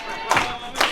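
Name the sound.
wrestling crowd cheering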